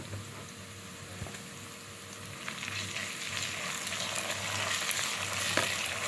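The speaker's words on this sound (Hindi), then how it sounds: "इसके बाद साथ ही हम लहसुन अदरक का पेस्ट 1 टेबलस्पून बीच में शामिल कर देंगे।" Garlic-ginger paste, about a tablespoon, frying in hot oil with cumin seeds in a kadai for a dhaba-style mash dal, giving a steady, close sizzle that builds slightly louder toward the end, with no talking.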